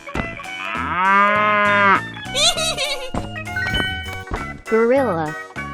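A cow in a 3D animal sliding video game lets out a long, loud moo, followed by further bovine calls and game sounds layered over bright background music.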